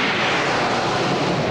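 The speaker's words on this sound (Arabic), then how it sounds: "تمر الآن الطائرات المشاركة في العرض الجوي، طائرات جاغوار وطائرات هنتر" Military jets, Jaguars and Hunters, pass over a national day military parade in a loud, continuous broadband roar that holds steady and close throughout, with no voices.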